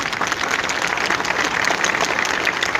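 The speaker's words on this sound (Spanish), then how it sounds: "Denle un aplauso al Señor para disimular este comercial" A church audience claps continuously in dense, even applause that holds steady and fairly close throughout the short stretch.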